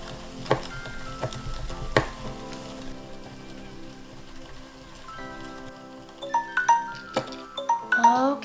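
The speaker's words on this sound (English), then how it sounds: "Continue turning the crank to mix quickly for 2 minutes." The crank of a So Slime DIY Slime Factory kit being turned to mix slime, making repeated clicking, ratcheting taps that turn into squeaky, chirping rattles toward the end.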